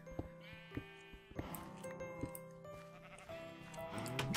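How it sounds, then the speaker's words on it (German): Sheep in the Minecraft video game bleat repeatedly, a series of short nasal calls overlapping one another, clear and close with no talking. "So viele Schafe haben wir hier jetzt eigentlich gar nicht."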